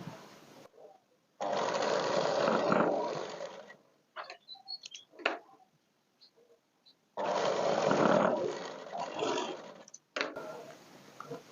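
A sewing machine stitches along a dress strip in two loud whirring runs of a few seconds each, separated by quieter handling clicks and rustles.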